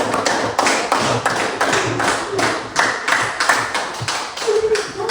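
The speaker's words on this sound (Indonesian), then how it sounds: "berikan tepuk tangan untuk kelompok satu" Students in a classroom clap for group one, a close, loud burst of rhythmic, fairly synchronized hand claps in quick repeated beats.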